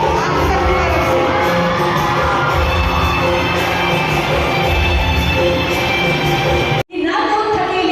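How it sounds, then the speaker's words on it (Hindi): A large crowd at a public inauguration ceremony for government schemes roars with dense, sustained cheering and shouting, loud and continuous, before cutting off abruptly near the end. "जोरदार तालियां हो आप सबकी तरफ से।"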